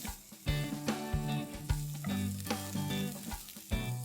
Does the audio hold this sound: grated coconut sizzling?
yes